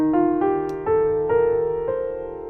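A Lydian mode scale played as a steady ascending sequence of sustained pitched notes, each new note entering about every half second, clear and close with no voices.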